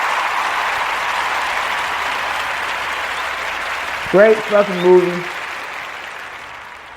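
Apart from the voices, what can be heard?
round of applause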